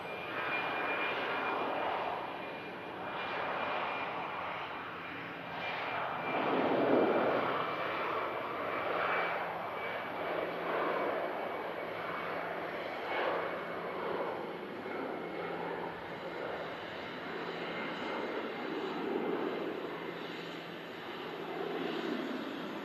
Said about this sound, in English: Dusseldorf bound A319 of Eurowings on the departure roll from 2-3 left